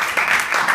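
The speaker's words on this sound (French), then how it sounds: "Donc, on commence par les applaudir tous les deux." A debate audience claps for two debaters in a brief, steady burst of dense applause from a crowd nearby.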